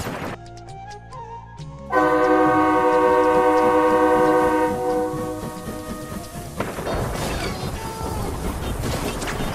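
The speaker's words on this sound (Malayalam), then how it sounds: "ട്രെയിൻ അതാ പോകുന്നോ?" A train rolls past with a loud, sustained horn blast that holds for several seconds, then the rumble and clatter of the moving cars carries on as the horn fades.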